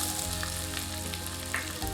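Lentils and chopped onion fry in hot oil in a pan, giving a steady close crackling sizzle with a soft stirring scrape near the end.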